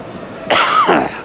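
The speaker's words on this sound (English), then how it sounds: "apologise for coughing by the way" A single short, harsh cough up close, breaking a quiet background, during a West Bromwich Albion versus Leicester football match.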